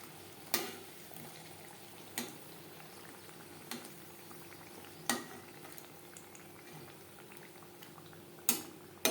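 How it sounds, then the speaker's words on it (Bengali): Fuchka puris fry in hot oil, a soft steady bubbling sizzle with a few sharp clinks of a utensil against the pan spaced through it; no talking. "এইভাবে উল্টে পাল্টে ক্রিস্পি করে ভেজে নেব।"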